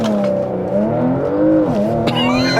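A 2026 Porsche Macan GTS launching under launch control roars loudly up close, its engine note climbing through the revs with a brief dip like a gear change before pulling hard again.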